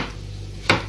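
A knife chops porcini mushrooms on a board while soup simmers nearby, giving one sharp, close cutting knock over a steady low kitchen hum.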